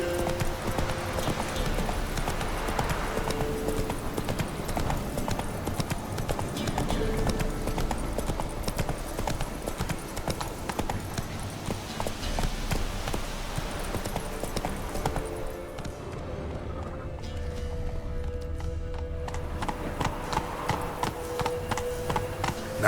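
Roach the horse gallops in The Witcher 3, steady rapid hoofbeats clip-clopping close and continuous over a game soundscape, with occasional faint voices.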